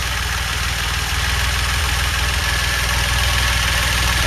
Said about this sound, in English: My engine is now pulling air through the vacuum leak that I created rather than through the breather hose like it's supposed to.